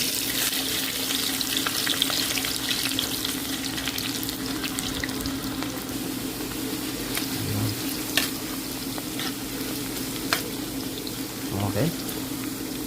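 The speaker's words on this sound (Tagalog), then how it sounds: "So, lulutuin natin. Isasalang natin to sa mantika." Potatoes fry in a pan of cooking oil with a steady, close sizzle and crackle, with a few faint clinks and stirring sounds over it.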